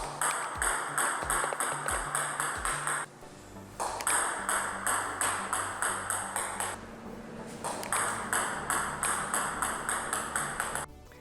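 A table tennis ball is struck over and over in backspin serves, giving crisp, bright pings in quick regular runs. Two short pauses break the sequence, and a few dull thumps come early on.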